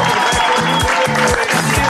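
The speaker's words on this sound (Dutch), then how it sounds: "Mag ik u applaus voor Frans van de Wijngaard?" Studio audience applause on a football-themed talk show: a continuous loud wash of clapping with a repeating musical jingle of sliding low tones underneath.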